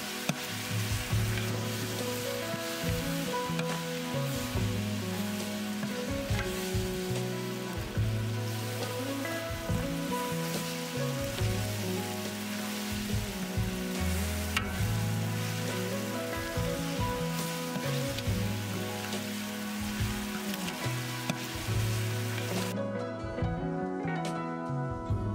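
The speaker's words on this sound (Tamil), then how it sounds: "இப்போ நம்ம புதினா கொத்தமல்லி சேர்த்து வதக்கிக்கலாம்." Onion, mint and coriander sautéing in oil for mutton biryani, a steady dense sizzle with frequent stirring scrapes throughout, close and continuous, no talking.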